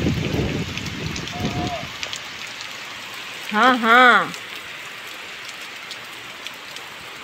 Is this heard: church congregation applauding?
no